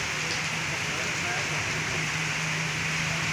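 Rain falls steadily onto a main road in a town street, a soft, even hiss of drops that runs unbroken throughout, fairly quiet with a faint low hum beneath.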